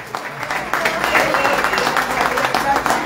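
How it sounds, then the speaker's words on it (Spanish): An audience claps at an awards ceremony in a terrace bar, a dense, steady round of applause that builds, with voices mixed in. "Yo les voy a pedir a todos ustedes que les demos un gran aplauso a ellos"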